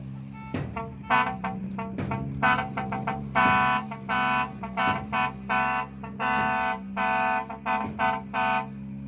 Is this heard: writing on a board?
no